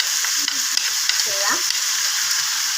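Meat masala and cumin sizzle in hot oil with a constant close crackle and hiss. Light clinks and stirring scrapes break through it, and no one speaks.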